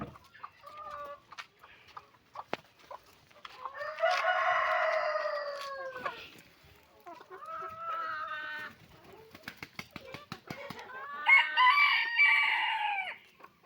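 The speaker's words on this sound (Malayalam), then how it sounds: "അജുമോൻ്റെ പഴയ കോഴികളാണ് കേട്ടോ ഇവരെല്ലാം" Old backyard chickens in a village yard, with repeated rooster crowing in long rising calls and scattered clucking between them, fairly close and with no talking.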